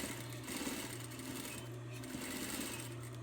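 Sewing machine stitching two layers of fabric for a ninja mask, a steady rapid mechanical chatter with a couple of brief pauses, close and continuous, no voices.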